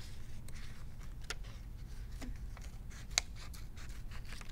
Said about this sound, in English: And I'm gonna cut out the smaller leaflet.